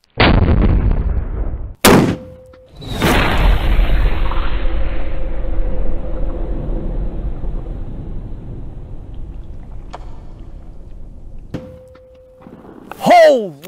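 Loud .50 caliber explosive rounds fired outdoors at a torso target: a sharp blast, then a second heavy report with a long rumbling decay, and a final burst near the end.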